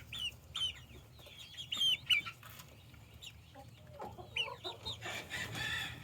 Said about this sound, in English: Hey, baby chickies.